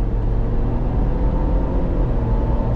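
2021 Ford Bronco Wildtrak pulling away from a dead stop under throttle, a steady low engine drone heard from inside the cabin, even and continuous over a few seconds.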